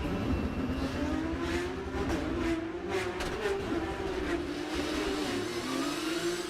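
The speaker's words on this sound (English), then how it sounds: "Let's go on board with Köhler at the start and listen as well as watch." Onboard sound from a Porsche Carrera Cup race car at a race start on the Red Bull Ring, the engine droning loudly and continuously at high revs through the whole clip.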